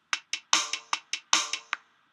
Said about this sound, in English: And now you have drum and snare.